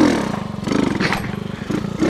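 A motorcycle engine during wheelie practice, a close, rough idle that rises and falls in short revs with some clattering, heard alone.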